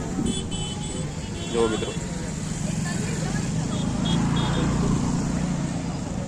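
Night road traffic on the Somnath corridor road: a steady wash of passing vehicles with a few short horn toots, and someone talking over it.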